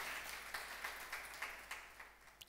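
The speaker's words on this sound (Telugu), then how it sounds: "గట్టిగా చప్పట్లు కొట్టండి" Steady, rhythmic clapping from a church congregation during a Sunday service sermon, a dense wash of hands with regular accented beats.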